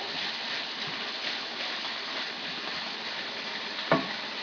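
Onion cooking in a pan for tacos, a soft continuous sizzle heard from a distance and fairly faint, with one brief clatter near the end.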